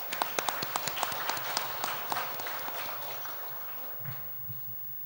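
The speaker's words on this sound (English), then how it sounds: "Let us give him an applause." Audience at a church general conference applauds a priest after his theological presentation, with a few sharp individual claps up front blending into soft, distant clapping that gradually fades.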